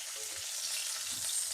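Potatoes for Kashmiri aloo dum fry on low heat in a covered pan. A soft, steady hiss and sizzle runs throughout, close and continuous, with no voices.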